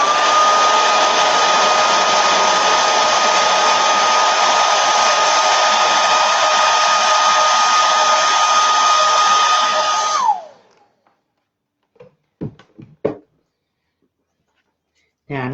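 A hair dryer blows steadily for about ten seconds while drying the end of a craft piece, then winds down and cuts off. A few soft handling knocks follow in near silence.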